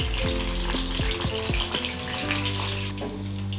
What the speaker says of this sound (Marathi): ह्याचप्रमाणे मी सगळे आता सोयाबीन तळून घेत आहे